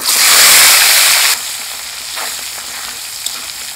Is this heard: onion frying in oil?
yes